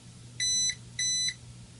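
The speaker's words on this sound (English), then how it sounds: "And you now get the beeping going" Two evenly spaced electronic beeps, sharp and high-pitched, sounding alone over a faint low hum.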